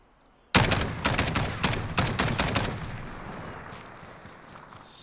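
MK 17 rifle in Call of Duty Modern Warfare fired on single-shot select fire: a quick string of about eight sharp, loud reports at an uneven pace, followed by a fading echoing tail.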